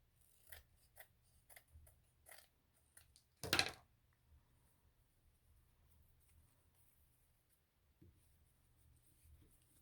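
Scissors snip craft paper for handmade primitive firecracker decorations, a handful of quiet, separate cuts with one louder, longer crunchy snip in the middle, heard close in a quiet room.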